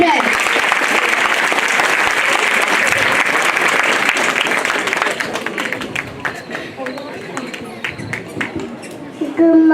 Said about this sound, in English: let's have a huge round of applause for KGJY children